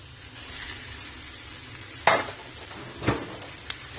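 Minced meat fries over sautéed onions in a pan, giving a steady soft sizzle, while a utensil stirs it in two distinct scraping strokes and then a lighter tap near the end.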